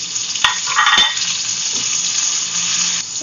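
Onion and tomato sauté in a frying pan, a steady close sizzle and crackle with a few sharp clicks of a utensil stirring against the pan, no voices.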